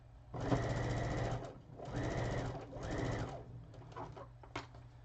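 A sewing machine stitches a seam in three close bursts of steady whirring separated by short pauses, followed by a few faint clicks and taps.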